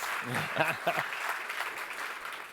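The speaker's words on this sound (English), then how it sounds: "Big round of applause." Audience applause at a corporate presentation, a dense wash of clapping running steadily throughout, with a couple of brief voices heard near the start.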